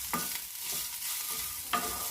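A tempering for coconut rice sizzles in a pan while a spoon stirs it, giving four or five soft scraping strokes over a constant close frying hiss.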